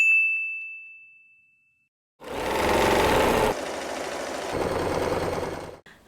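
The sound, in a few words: sewing machine stitching a straight line along fabric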